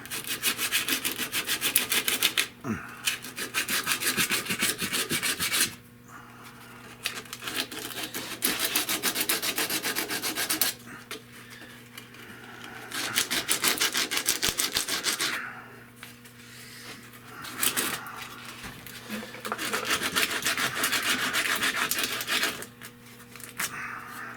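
A brush scrubs hard at rust on the upper A-arm ball joint of a 1970 Buick Wildcat, making rough, rasping strokes in several long bursts separated by brief pauses. The sound is close, loud and steady, with no talking.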